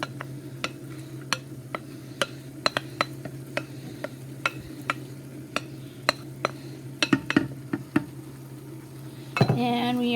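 Sliced cooked carrots are stirred into a pot of beef stock, giving a run of sharp spoon-on-pot clinks and taps over a low steady simmering hiss, with a louder scraping clatter near the end.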